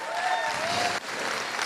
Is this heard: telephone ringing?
no